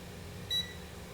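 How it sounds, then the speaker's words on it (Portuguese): A multimeter's continuity test on a Samsung A01 phone board gives a single short, thin electronic beep, faint against a low steady background hum. "o teste do bip, certo?"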